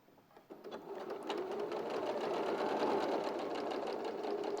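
A sewing machine stitches fabric, joining pieces together, with a steady, close mechanical whir that starts softly and then runs continuously at an even pace.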